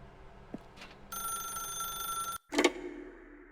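A telephone in The Stanley Parable video game rings in one long sustained bell burst, then cuts off abruptly before a brief louder clatter follows; faint quiet sounds precede it.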